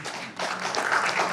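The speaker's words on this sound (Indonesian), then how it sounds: "Tepuk tangan dong." A TV talk show studio audience applauds during a discussion program, a short burst of scattered clapping that swells slightly, close and moderately loud.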